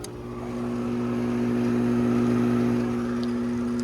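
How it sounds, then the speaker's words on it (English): A furnace induced draft flue motor spins up and runs with a steady, close mechanical hum and drone that holds constant throughout. "The flue motor is running, or the induced draft, whatever you want to call it."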